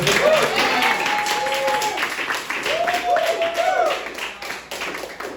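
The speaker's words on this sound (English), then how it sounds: "give him a round of applause" An audience at a comedy roast battle claps and cheers in sustained applause, with excited voices and whoops rising over the clapping.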